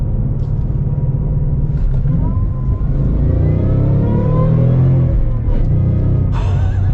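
Shelby Super Snake Mustang pulling away under throttle, a loud, steady low engine roar that swells and rises in pitch over several seconds, heard from inside the car amid traffic.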